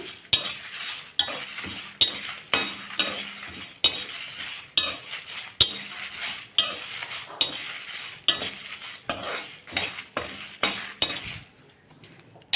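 Red chillies dry-roasted in a pan for rasam powder, tossed with a spatula that scrapes and clinks in a regular rhythm about twice a second under a faint sizzle, slowing near the end.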